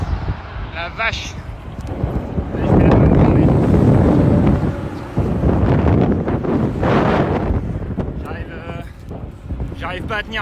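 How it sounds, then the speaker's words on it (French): Heavy gusting wind batters the microphone of a cyclist training on the Ironman Hawaii course, a loud rumbling buffeting that surges and eases in waves, with someone speaking French briefly between the gusts. "il y a un vent de dingue"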